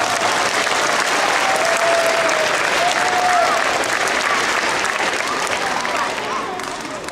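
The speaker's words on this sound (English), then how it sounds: "Everybody give yourselves a round of applause." A school assembly crowd of students and staff gives a sustained round of applause, loud and dense throughout, easing off slightly toward the end.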